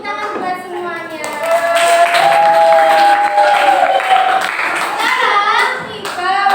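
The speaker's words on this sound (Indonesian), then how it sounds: "Tepuk tangan buat semuanya." A group of people in a classroom gives a burst of hand clapping. It is loud and fairly close, with a few voices and cheers mixed in.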